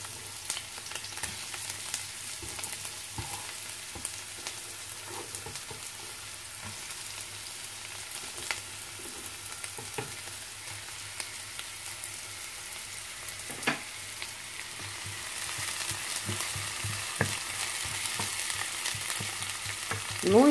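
Onion frying in hot oil for a Ukrainian-style borscht with beans, a steady close sizzle and crackle running throughout with occasional faint pops, no voices.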